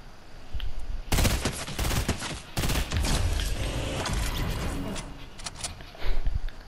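Rapid bursts of automatic gunfire and sniper shots ring out in a Fortnite match, dense loud volleys separated by brief pauses, with a voice speaking faintly underneath.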